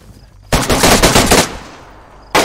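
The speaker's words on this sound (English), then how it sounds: "No, you're getting shot." Loud automatic gunfire from the survival video game DayZ rattles out in one dense burst of about a second. Quieter echo follows, then a second burst starts at the very end.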